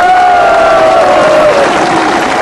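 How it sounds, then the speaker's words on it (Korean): Steady, dense applause from a large audience at a political election rally fills the whole stretch, loud and continuous with a faint tone running underneath. "여러분 다시 한번 큰 박수 부탁드립니다"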